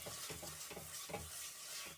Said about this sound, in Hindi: अदरक लहसुन की पेस्ट को भी हम अच्छे से भून लेंगे।